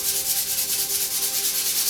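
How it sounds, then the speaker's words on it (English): Steady back-and-forth hand sanding on an antique screwdriver being restored, an even, rhythmic rasping scrape repeating about four times a second, close and clear with no voices. "I'm to the point where I've been hand sanding at this point."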